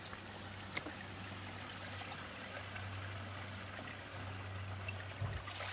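Mountain spring water pouring into a 4-gallon jug, a steady rushing trickle with a low hum running beneath it, fairly quiet and continuous.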